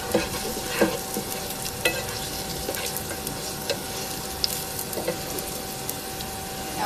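Whole spices including cloves, cinnamon pieces and white cardamom fry and crackle in a pot, a steady close sizzle with scattered sharp pops and stirring clicks throughout, no voices.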